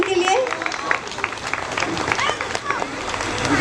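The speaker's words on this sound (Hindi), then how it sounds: "तालियां बजाएंगे हम इनके लिए।" Applause at a Hindi Christmas (birth of Jesus) church celebration, dense clapping with voices and shouts mixed in throughout, steady and fairly loud for a few seconds.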